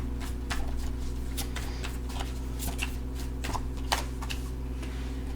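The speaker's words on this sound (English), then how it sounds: "Let's get some more cards here." Tarot cards are shuffled and laid out in quick papery flicks and taps that repeat irregularly for several seconds. A steady low electrical hum runs underneath throughout.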